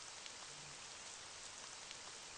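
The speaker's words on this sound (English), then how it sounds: "I gave you my umbrella. You make it rain." Rain falls in the Ib remake video game, a faint, even hiss of steady rainfall with scattered soft drops.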